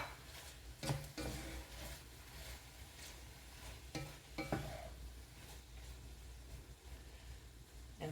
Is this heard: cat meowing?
no